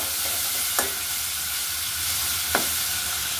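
White raisins frying lightly in ghee give a steady bright sizzle, with two brief sharp scrapes of a spoon stirring through the pan.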